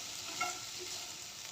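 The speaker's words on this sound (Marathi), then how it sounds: "तेलात भेंडी छान भाजून घेतली ना हाय फ्लेमवर" Okra stir-frying in hot oil over a high flame, a steady close sizzle with faint stirring scrapes, no voices.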